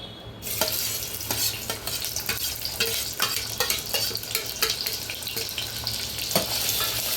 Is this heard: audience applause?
no